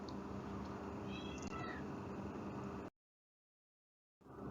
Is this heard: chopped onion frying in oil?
no